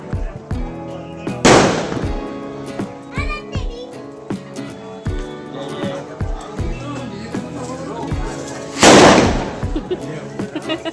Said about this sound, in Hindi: पतिदेव भी पटाखे फोड़ते हैं।